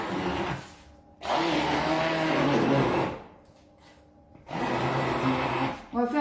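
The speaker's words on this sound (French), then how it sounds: "je viens mixer mon saumon" A blender purees salmon in two long whirring bursts separated by quieter pauses. The motor sounds loud and close, with a grinding buzz during each run.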